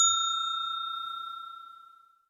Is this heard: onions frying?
no